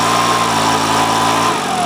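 Makita BHX2500 leaf blower engine running roughly from a bad carburetor starving it of fuel, a steady, loud, close buzzing drone that falters slightly toward the end.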